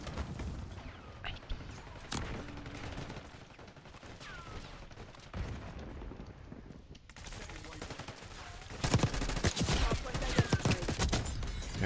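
Close, loud bursts of XM4 assault-rifle fire in Black Ops 6, mixed with other battlefield gunshots and game clatter, intensifying into dense volleys near the end.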